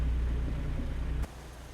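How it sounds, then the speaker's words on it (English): Steady rain hiss and low rumble in American Truck Simulator, fairly loud and even before dropping off sharply to a quieter wash as the rain subsides. "Okay, the rain is subsiding."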